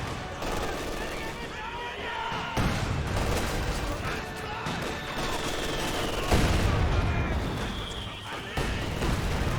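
Flak half-track from Company of Heroes 2 firing rapid bursts of anti-aircraft gunfire on a battlefield, dense repeated shots with louder crashing impacts, heard beneath a commentator's voice.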